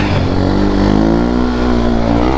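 A Grom clone motorcycle engine drones loudly and steadily while the bike holds a wheelie near its balance point, a close, sustained buzzing tone with little change in pitch and no voices.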